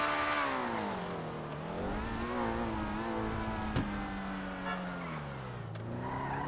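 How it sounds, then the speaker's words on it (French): Police car engine in a GTA roleplay game revving and changing pitch, rising and falling as the car moves, with a brief sharp click midway and no speech. "Il a vraiment une voiture de flic quoi."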